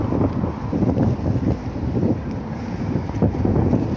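Wind roars and buffets the microphone of someone cycling into a headwind on an overcast day in Campos dos Goytacazes, a constant loud low rumble with no voices.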